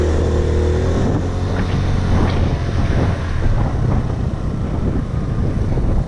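On a breezy day outdoors, wind gusts across the microphone in a loud, steady low rumble and buffeting roar that swells and eases without a break.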